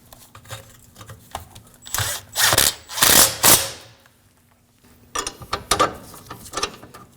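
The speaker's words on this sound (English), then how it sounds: "We can snug up the bolt for the parking brake bracket." A ratchet snugs a bolt on the parking brake bracket of a 2016–2022 Honda Pilot, with bursts of rapid clicking strokes close up, separated by pauses and light metal handling.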